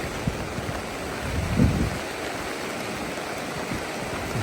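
Heavy rain falling during a January walk in Sochi makes a steady, dense hiss with no pauses, swelling briefly louder near the middle before settling back to an even roar.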